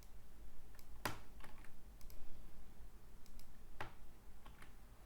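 Computer keyboard keys clicked in short, uneven bursts while an email address is entered, quiet and close with brief pauses between strokes.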